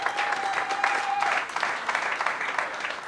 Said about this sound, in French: l'accueillons avec vos applaudissements